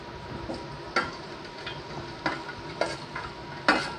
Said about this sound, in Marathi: आता त्याच्यामध्ये मी कढीपत्ता टाकणार आहे